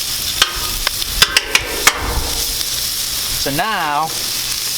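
Bacon sizzles steadily on a Blackstone griddle, the frying hiss joined by several sharp metal taps and a brief spoken voice near the end.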